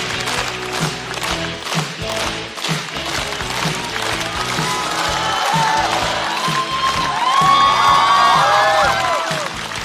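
A studio audience at a Chinese stand-up comedy show applauds and cheers as a comedian walks on stage. The clapping is dense and steady for about ten seconds, with bright music swelling near the end.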